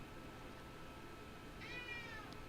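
A pet cat lets out one faint, drawn-out meow rising and falling, heard distantly over a steady hiss of background noise with no talking.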